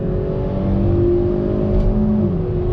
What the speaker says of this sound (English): I want to kind of do a quicker roll on throttle in this Forte GT